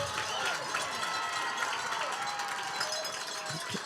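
A distant homecoming crowd at a high school football game, Hudson Raiders against Superior, cheering a touchdown as a steady, broad roar with scattered clapping, faint and continuous for the whole stretch.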